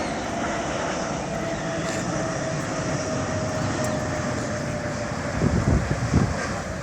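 A large aircraft landing at the Farnborough Airshow gives a loud, steady engine roar with broadband rushing wind noise, followed near the end by a few heavier low rumbling thumps.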